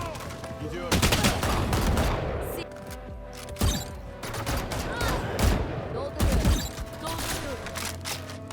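A turret firing in the video game Valorant, rapid bursts of gunfire with sharp loud cracks and rattling volleys that stop and start, while a player talks.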